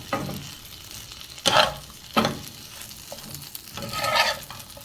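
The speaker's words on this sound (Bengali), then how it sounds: "এখন আমি ভাজা ভাজা না তো সিদ্ধ করা কাঁঠালের লিচিগুলো সব দিয়ে দিলাম" Boiled jackfruit seeds frying in a pan, with scraping stirs and bursts of sizzle at intervals over a steady low crackle, close and fairly loud.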